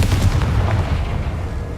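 Confringo blasting spell from Hogwarts Legacy: a dense, rumbling explosive blast that fills the whole clip, heavy and booming, slowly fading without a clear separate impact.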